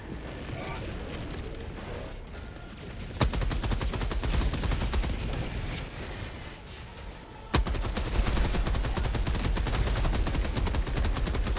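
A deployed sentry gun turret in Helldivers 2 opens up with rapid, sustained automatic fire in two long close bursts, loud and continuous over earlier quieter battlefield noise.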